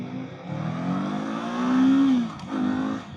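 A 2024 Kawasaki Eliminator motorcycle accelerates in first gear, its engine note climbing steadily through a rising rev, easing off briefly, then pulling up again, loud and close with no talk.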